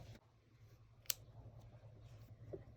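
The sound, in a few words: scissors cutting yarn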